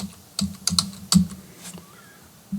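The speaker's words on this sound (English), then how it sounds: "back to the text, and we're just going to put the caps lock on" Keys tapped on a computer keyboard while entering text, a handful of separate, crisp clicks in an irregular rhythm, close up and otherwise quiet.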